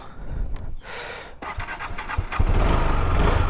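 A cold KTM Duke motorcycle engine is started, with a few sharp bursts and revs before settling into a loud, steady low rumble as it warms up, in Tawang.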